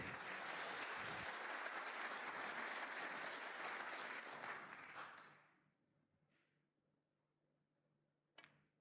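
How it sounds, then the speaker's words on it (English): Applause from the crowd at a UK Championship snooker match in 2023: sustained, dense clapping for about five seconds, then a fade to near silence with a brief faint sound near the end. "Thepchaiya already applauding."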